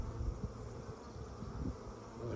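Honeybees buzz steadily around a hive entrance as foragers bring in loads of pollen, a dense, continuous low hum of many wings close by with no talking.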